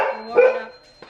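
A dog barks once at close range, a short sharp yap inside a home, with a faint steady tone in the background and no talk.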